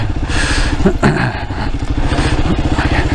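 Kawasaki KLR650 adventure motorcycle engine running steadily and close, a dense low rumble with rhythmic firing pulses held at constant revs throughout, with no voices.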